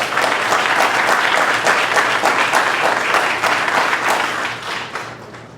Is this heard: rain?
no